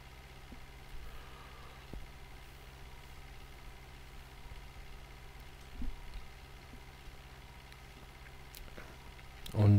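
A tractor engine in the farm simulator game Farming Simulator 2013 drones at a steady, low idle-like hum throughout, with a brief louder swell at the very end and no talking.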